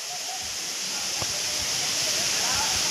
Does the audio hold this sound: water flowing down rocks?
yes